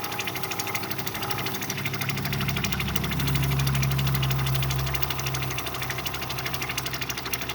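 A lapidary wheel grinds a Montana agate cabochon with a steady motorized whir and rapid vibrating chatter. A low hum swells in the middle and then eases back, faint overall and with no speech.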